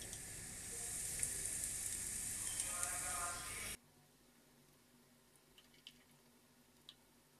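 Ginger-garlic paste, cinnamon and cumin sizzle steadily in a pan for a spicy tripe curry, a close, continuous frying hiss that cuts off abruptly into near silence with faint clinks.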